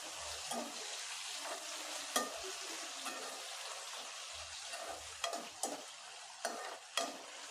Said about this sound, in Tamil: இப்போ இது கூடவே ரெண்டு தக்காளி பழமான தக்காளியாக சேர்த்துடலாம் ஒரு கொத்து கருவேப்பிலையும் சேர்த்துடலாம் சேர்த்துட்டு நல்லா வதக்கி விட்டுடலாம்